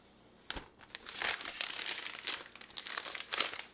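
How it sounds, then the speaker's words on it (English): Protective paper peels off a new 2020 rose gold iPad Air, a close crinkling and crackling rustle that builds after a sharp first tear and keeps crackling unevenly to the end. "So let's get that paper off."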